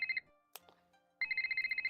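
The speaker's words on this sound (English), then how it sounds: "phone call." Phone ringing inside a video game, a bright electronic ringtone in rapid pulsing bursts that pauses for a moment with a few soft clicks, then resumes its quick trilling pattern.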